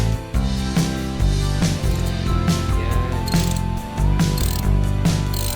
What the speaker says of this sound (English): we will be using 17mm socket to tighten it down